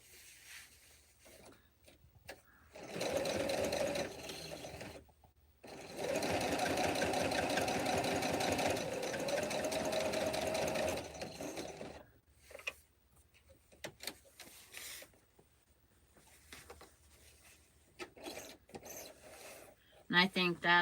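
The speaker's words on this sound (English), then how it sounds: "just trying to get enough quilting in there to say it's quilted" A home sewing machine runs in steady bursts while stitching quilting lines into a ghost-shaped pillow, with two longer stretches of motor whir separated by pauses and quieter handling noises around them.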